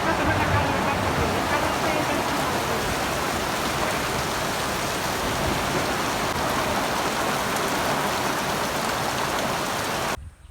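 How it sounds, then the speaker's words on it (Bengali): Heavy rain pours down beside a river in a dense, steady hiss of drops pattering on surfaces, loud and unbroken for about ten seconds before cutting off abruptly. "আজকে প্রায় সারাদিন বড় অনেক বৃষ্টি হয়েছে"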